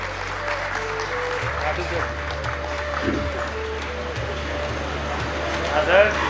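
An assembly hall audience applauds to welcome a guest, a steady wash of clapping under amplified music and a voice, fairly loud and continuous throughout.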